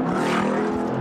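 A Jeep SRT's exhaust roars in a brief, loud, steady rev close by, with no talk over it.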